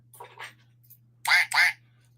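Two loud, close duck quacks in quick succession, preceded by a softer pair of quacks and then silence, as a playful sound effect.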